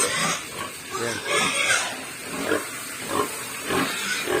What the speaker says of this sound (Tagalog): Dami kong baboy eh.